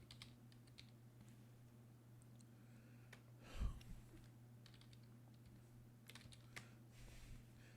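Typing on a computer keyboard, faint quick clicks and taps in irregular bursts over a low electrical hum, with one louder knock midway.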